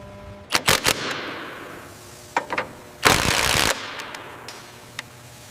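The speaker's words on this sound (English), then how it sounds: "Engaging the torque wrench now." A torque wrench engaged on a rocket structure in a manufacturing facility, heard as a series of sharp metallic clicks and bursts, including a longer loud rasping stretch midway, close and without talk.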